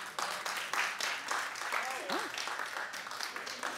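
Studio audience applause on a daytime talk show, a short burst of clapping from a crowd that swells briefly and carries on under a voice speaking.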